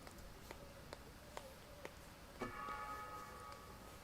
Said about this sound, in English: you can hear those bells in the background from the church down the street. The bells are beginning to toll